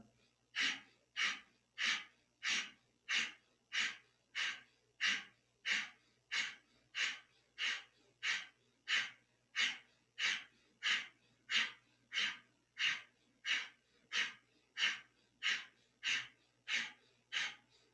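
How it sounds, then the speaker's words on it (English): Breath of fire in kundalini yoga, a long series of evenly spaced, forceful nasal breaths, about one and a half per second, close and steady throughout without talk. "we're going to do the same kind of motion, just moving hands up and down with the breath of fire"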